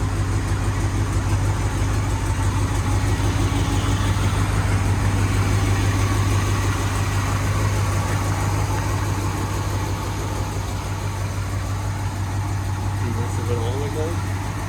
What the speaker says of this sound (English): it's moving under its own power for the first time with the new transmission